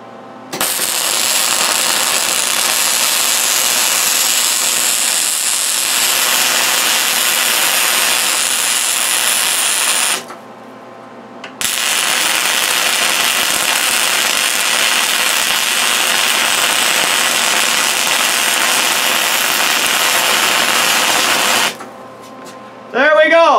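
Welding on a steel solar panel tower pole for a remote cabin in the woods, a long steady crackling hiss in two sustained bursts separated by a short pause.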